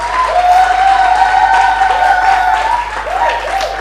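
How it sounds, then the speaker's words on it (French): An audience at a gospel music show applauds loudly and steadily, a dense close wash of many hands clapping throughout, with faint vocal tones and cheering mixed in. "On applaudit fort."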